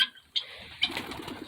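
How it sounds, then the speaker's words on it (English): Pigeons, a family of adults and a young bird, outdoors while snow falls: two short, soft coos, quiet and fairly close, separated by near silence with faint background noise. "Mama and Papa Pigeon and Baby Pigeon."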